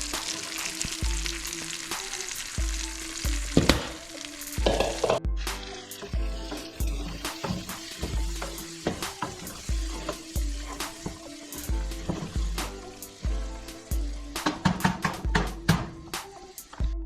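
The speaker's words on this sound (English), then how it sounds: "We're gonna sweat these vegetables down until they're nearly cooked or starting to be translucent." Vegetables sweat down in crispy bacon fat for Hoppin' John, a continuous close sizzle and crackle in the pan punctuated by frequent sharp utensil clicks and scrapes, fairly loud throughout with no talk.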